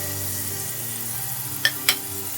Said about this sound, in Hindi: यहाँ प्रेशर कुकर में 1/4 कप ऑयल जो है वो गर्म हो रहा है। इसमें हम ये प्याज फ्राई करेंगे।